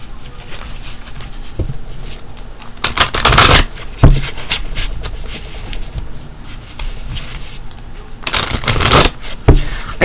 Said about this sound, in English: I'm going to shuffle a little bit more.